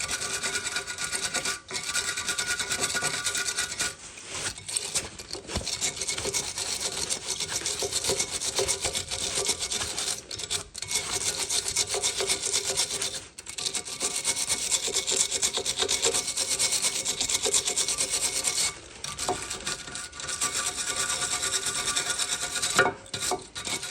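Steady scraping and rubbing of a brake caliper carrier being cleaned where the pads slide on a Vauxhall Corsa E front brake, continuous close abrasive strokes with brief pauses, no talking.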